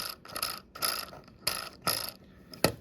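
A 3D-printed coupler knuckle mechanism being moved and snapping back to center, giving a series of quiet, close ratcheting clicks in short bursts with brief pauses between them.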